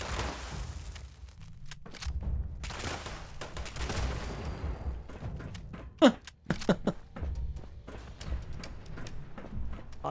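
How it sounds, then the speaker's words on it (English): Explosions and gunfire in the Fallout 76 video game, with a steady rumble of game noise broken by repeated sharp bursts and a couple of loud blasts mid-clip, no talking heard. "Lots of explosions going on here today."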